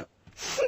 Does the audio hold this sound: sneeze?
yes